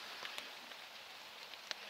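Rain falling steadily in a forest, a soft continuous patter with a few sharper drops standing out, faint and heard alone without voices.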